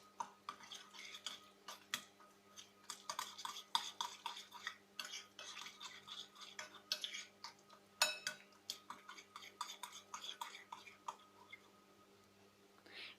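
A spoon stirs a potato mixture in a bowl for aloo tikka, giving faint, close, irregular scraping and clinking taps at an uneven pace over a low background hum.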